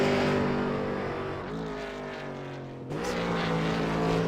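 A V8 Supercar in a racing game thunders down the front straight, its loud engine note dipping briefly as it lifts and then surging back with a rising shift, close and alone without talk.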